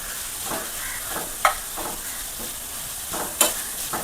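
Finely chopped small onion frying in a pan for a Kerala snake gourd and egg stir-fry, a steady soft sizzle broken by several spoon stirs and two sharper scrapes, with no talking.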